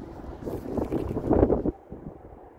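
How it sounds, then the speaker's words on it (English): Gusty wind buffeting the microphone outdoors beside an Atlas Blue 2024 Ford Mustang EcoBoost at a dealership lot, a loud rumbling roar that swells to a peak and then drops away to a softer rush. "Since the wind's out, it's probably gonna be kind of hard to hear me."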